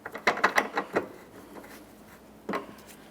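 A bolt on a 2014-2019 Toyota Corolla headlamp assembly is snugged down with a ratchet, giving a quick series of close, crisp clicks followed by a pause and one more short burst.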